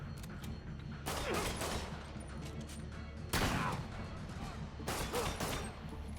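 Sniper gunfire from rooftop enemies in the Spider-Man PS4 video game, three loud broadband blasts roughly two seconds apart, each with a short rumbling tail, over a steady low game soundtrack hum.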